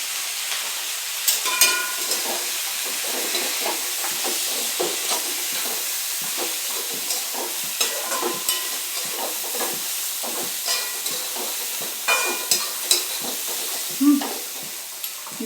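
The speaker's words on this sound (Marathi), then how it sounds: "आता तुम्ही कांदा टाकू शकता." Chopped onion frying in hot oil for a tempering, a steady close sizzle with scattered spatters and stirring clinks throughout, no talking.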